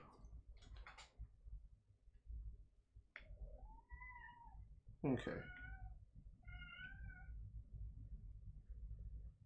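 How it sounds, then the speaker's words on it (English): A house cat meows several times, drawn-out rising and falling calls that stand out clearly over low background hum, and someone speaks briefly among them. "Shut up, cat!"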